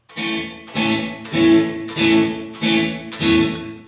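Electric guitar run through a reverb pedal set fully wet, six evenly spaced strummed chords each blooming into a washed, ambient tail with no dry attack, loud and alone.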